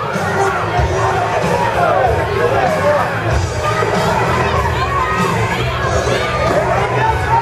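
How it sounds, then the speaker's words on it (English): A roller derby crowd cheers and shouts continuously, loud and dense with children's voices and whoops rising over steady arena noise. "cheer your team to get them back into this as Lil Red Wrecking Hood gets set to go up"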